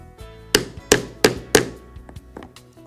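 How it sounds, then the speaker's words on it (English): A 3/32 thonging chisel struck by a hammer to punch holes in leather gives four sharp, loud thwacks at an even beat, followed by a few fainter taps. "I'm using a 3/32 thonging chisel to punch holes"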